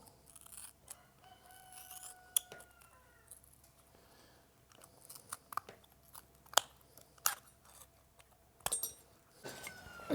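Metal snips cut the sheet metal of a wheelbarrow along a marked contour, producing a quiet sequence of irregular sharp clicks and crunches close by, with pauses between cuts.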